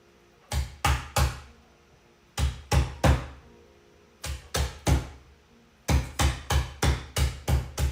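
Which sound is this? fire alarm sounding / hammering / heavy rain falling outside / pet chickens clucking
hammering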